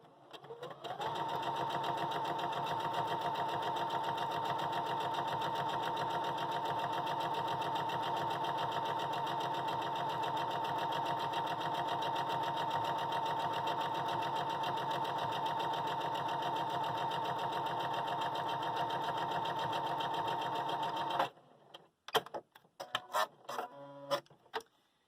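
A sewing machine stitches quilt pieces in one long, even, steady whirring run of about twenty seconds, close and clear, then stops, followed by a few short handling knocks.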